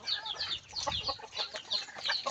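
Chickens kept on a backyard farm, including gamecocks and native hens, cluck in a busy, overlapping stream of short calls close by, with no talking.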